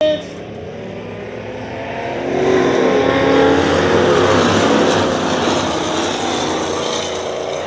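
Race cars on a dirt track roar past with a loud, sustained engine drone that swells in the middle, with a commentator's voice mixed in.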